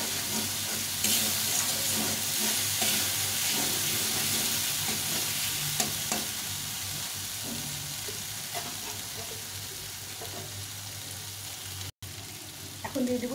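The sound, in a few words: tomato and spice paste frying and being stirred in pan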